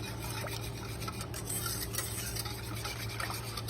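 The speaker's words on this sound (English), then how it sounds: "And then you're going to stir that around." Butter and cold milk are stirred together in a pan, a soft, continuous scraping and swishing over a steady background hum, with no one speaking.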